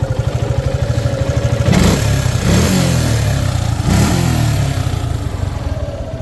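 A Suzuki Gixxer SF Sports Edition motorcycle engine runs close by with a steady idle pulse and two brief throttle blips that rise and fall, loud and alone.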